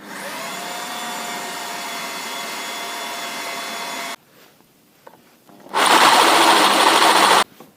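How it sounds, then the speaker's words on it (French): A hand drill bores holes in metal on a prototype part, giving a steady whirring grind for several seconds, then a short pause with faint clicks, then another loud burst of drilling. "Là, je vais donc percer."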